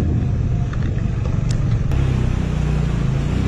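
A car labors up a very steep slope in first gear on a mountain road in Pakistan, its engine a dense, steady low rumble that strains continuously without easing, close and fairly loud.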